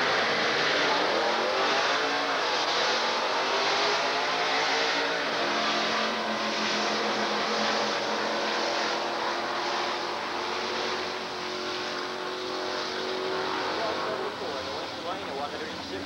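A 1978 Z28 and a dragster launch at a 1990 Division 4 drag racing final at Texas Motorplex, engines roaring loud and continuous with rising pitch as they accelerate away, under a commentator's voice.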